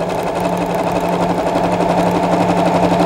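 A sewing machine stitching around a buttonhole edge, a fast steady close mechanical whir of needle strokes without pause.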